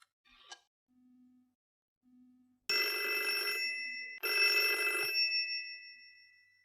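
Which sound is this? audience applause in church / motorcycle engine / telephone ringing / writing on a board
telephone ringing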